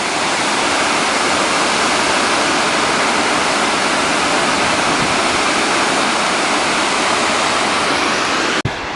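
Canyon waterfall cascading down a gorge, the Gorges du Coulon, giving a steady, loud, close roar of rushing water without let-up, broken by a brief click near the end.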